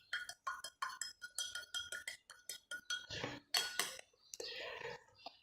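A spoon stirs a spoonful of clay in a glass of water, giving a run of quick close clinks and taps against the glass.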